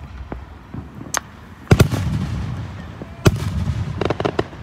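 Fourth of July fireworks booming and crackling outdoors, several sharp bursts and pops scattered over a few seconds amid steady background rumble, moderately loud and somewhat distant.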